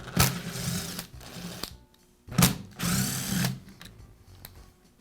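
A power drill removing screws from a Makita belt sander whirs in two bursts, each with a sharp start and a sustained buzzing run, close by, separated by a short pause.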